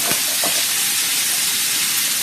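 Diced bacon frying in a pan for a jalapeño hash, stirred with a slotted spoon: a loud, steady crackling sizzle throughout with a couple of brief scraping stirs near the start.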